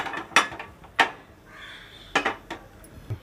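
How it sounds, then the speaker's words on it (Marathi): A metal pan clanks down onto a gas stove, with a few sharp metallic knocks and a brief hiss, close and fairly loud. "आणि परत तोच पॅन मी गॅसवर ठेवून देते."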